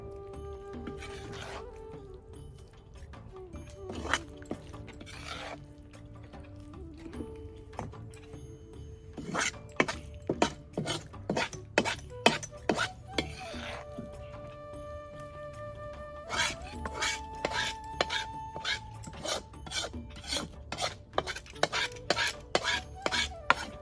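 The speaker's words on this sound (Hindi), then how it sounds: "अब मैं इसको एक बड़े से बर्तन में निकाल लेती हूँ, क्योंकि आपको इसको बड़े बर्तन में निकालना है कि जल्दी ठंडा हो सके।" Cooked besan (gram flour) and ghee mixture for village-style besan laddu being scraped into a large vessel and mixed, with steady scraping and stirring, clanks of a metal spoon against the pot, and sharper knocks in the second half; no talk.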